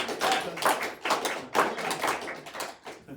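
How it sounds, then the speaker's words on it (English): A small audience at a talk gives faint, sparse applause, a handful of soft claps landing in a loose rhythm roughly every half second. "Let's give an applause. I want to hear a sound."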